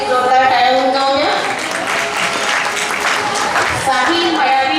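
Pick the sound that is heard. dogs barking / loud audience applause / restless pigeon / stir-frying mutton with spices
loud audience applause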